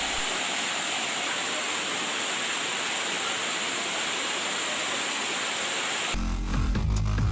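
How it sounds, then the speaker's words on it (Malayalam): The Pathayakkunnu waterfall roars in a steady, full, unbroken rush of falling water, heard close and loud without pause, before a brief shift to other sound at the very end. "പുറവട്ടം കോളനിക്കടുത്തുനിന്നേ കേൾക്കാം കുതിച്ചുപായുന്ന പത്തായക്കുന്ന് വെള്ളച്ചാട്ടത്തിന്റെ ജംഘാരനാദം"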